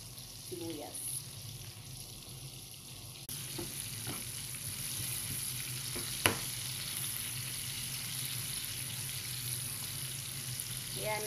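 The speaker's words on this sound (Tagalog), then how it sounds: "At pagpiprito ako ng sibuyas para dagdag panghalo po sa pangibabaw po sa manok." Onions fry in a pan as a steady, soft sizzle runs throughout, with a few faint clinks and one sharp tap partway through, and no talking.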